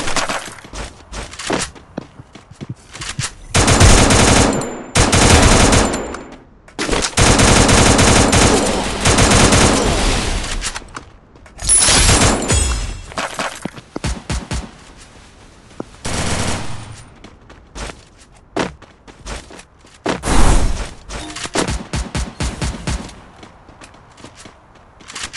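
Loud bursts of automatic gunfire from a mobile battle royale shooter, coming in long sustained volleys with short gaps between them, plus a few single shots and quieter stretches.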